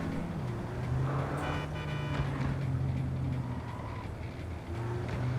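Old, rusty truck engine droning steadily while driving in the video game Cyberpunk 2077, a loud continuous rumble with shifting pitch throughout.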